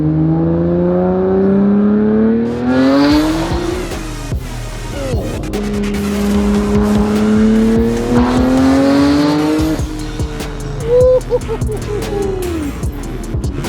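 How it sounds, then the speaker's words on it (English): A loud Nissan Skyline R33 GT-R engine revs and drops in long sweeping pulls, a raspy exhaust note rising in pitch, easing off, then climbing again, with faint voices underneath. "the Skyline exhaust note, you can't ever get over it"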